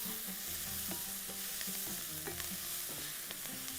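Onions fry in a pot with whole spices: bay leaves, cinnamon, cloves, black pepper and cardamom. A continuous close sizzle runs under repeated stirring clinks and scrapes, with no voices.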